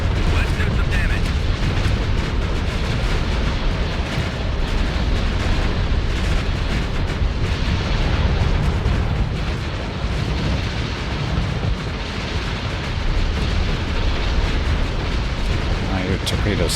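Torpedo blasts in the Starsector space game: a dense, continuous rumble of booming explosions fills the whole stretch, loud and sustained, with a voice talking over it at times.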